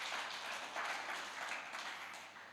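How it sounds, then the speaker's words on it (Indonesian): A church congregation applauding during a worship service, a soft, dense patter of many hands that stays even and then tapers off slightly, distant and faint. "Beri tepuk tangan yang meriah begitu."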